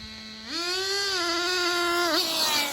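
A Traxxas Nitro 4-tec 3.3 RC car with a nitro engine revving up, the steady idle whine climbing sharply into a loud, sustained high-pitched scream with a brief dip near the end, heard alone.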